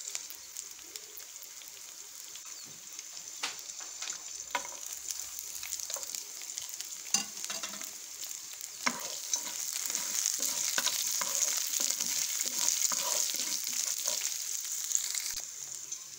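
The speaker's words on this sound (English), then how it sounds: "With this I am adding the cut garlic pieces." Cut garlic pieces frying in oil in a pan alongside saranai keerai greens, a steady bright crackling sizzle that grows louder and denser, with scattered pops and no voices.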